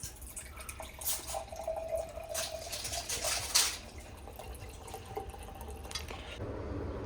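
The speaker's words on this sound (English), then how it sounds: "Pouring back glass of wine." Wine pours into a glass in a steady, soft liquid trickle with a few drips, faint against a busy background hum.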